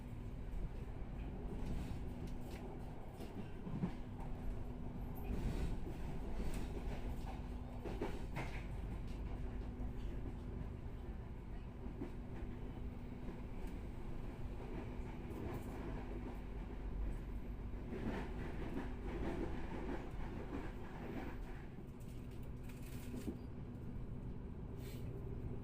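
Inside a Blambangan Ekspres passenger train on the move, a continuous low rumble and rolling rattle carry on steadily with a faint tonal hum, fairly quiet and with no voices.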